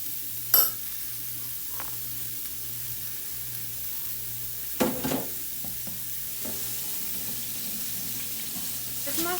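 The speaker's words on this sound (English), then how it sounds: "I'm going to take the pork ribs and I'm going to put them in there, and I want it to sizzle." Pork ribs browning in a hot pan give a steady, faint sizzling hiss, broken by a few soft clinks and stirring sounds over a low background hum.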